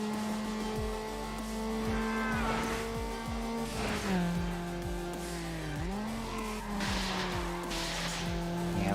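A Miata drifts in the Need for Speed Underground racing game, its engine droning steadily while tires squeal in long rising and falling skids, loud and continuous.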